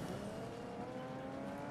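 A car in the Fortnite video game drives with tire squeal, a short steady burst of engine roar and road noise, fairly faint and without talk.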